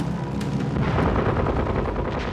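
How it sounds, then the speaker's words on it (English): Wing-mounted 20mm cannons fire from a Messerschmitt Bf-109 fighter over the North African desert in World War II: a rapid, harsh burst of heavy gunfire, loud and continuous for a couple of seconds. "A few direct hits from wing-mounted 20mm cannons are all they need to send the slower British Hurricanes down."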